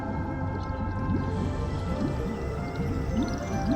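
Electra, a sea siren in Honkai: Star Rail, gives a calling voice of repeated, whale-like rising cries over a deep, steady underwater drone.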